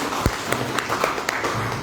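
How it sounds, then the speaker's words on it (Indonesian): An audience of teachers at a school visit gives applause for guests, a fairly steady patter of many hands clapping with a few sharper claps standing out, heard at moderate distance. "tepuk tangan yang meriah Bapak Ibu."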